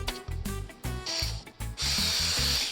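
A power drill bores and cuts cord holders from wood for the interior sides of a French cleat tool charging station, giving several short ratcheting bursts and then one longer steady whine near the end.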